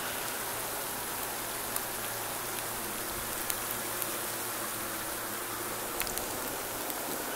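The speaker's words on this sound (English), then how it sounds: "it's raining ice in Mississippi" Freezing rain falls steadily in cold weather in south Mississippi, a dense, continuous patter of ice pellets striking surfaces nearby with scattered sharper ticks throughout.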